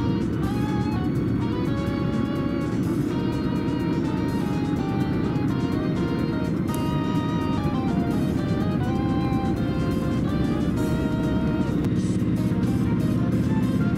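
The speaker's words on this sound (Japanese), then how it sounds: "今すれ違っている車両がキハ261系です。" A JR Hokkaido KiHa 261 series diesel express passes the other way, a loud continuous rumble with rhythmic clattering, heard from inside a moving train throughout.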